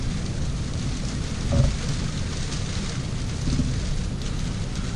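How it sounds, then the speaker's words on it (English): Heavy rain from a thunderstorm pours steadily down outside a stone bothy in the Peak District, a dense constant roar with a low rumble of thunder swelling briefly in the middle. "One hell of a storm just come in."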